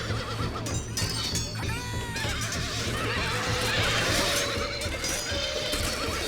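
Heavy horse cavalry in the video game Shogun Total War: The Mongol Invasion neighs and whinnies in a melee battle, several drawn-out whinnies over a dense bed of hooves and combat noise.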